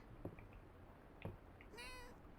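A cat in the farming game Fields of Mistria meows in short bursts: two soft chirps, a pair of quieter mews, then a longer rising meow at the end.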